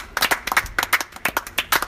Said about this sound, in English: Let's give a round of applause to the subscribers.